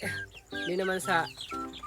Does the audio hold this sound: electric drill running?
no